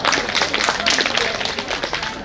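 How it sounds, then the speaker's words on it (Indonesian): Audience at a school alumni reunion and halal bi halal gathering breaking into applause, a dense, steady patter of many hands clapping, fairly loud and sustained throughout, with some voices mixed in. "Tepuk tangan untuk kita semua."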